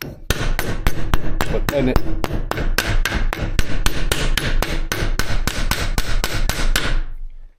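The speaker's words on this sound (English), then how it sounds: "only use a light hammer for it" Light hammer tapping sheet metal clamped in a vise, shaping the front lip of a 1976 BMW 2002; a steady run of sharp, evenly spaced metallic strikes, close and loud, with a brief spoken word partway through.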